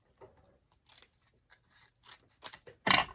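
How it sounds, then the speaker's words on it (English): Scissors trim a small strip of cardstock for a Stampin' Up! greeting card, with faint scattered snips and rustles building to a louder, close final cut. "So I'm going to cut a little strip off again."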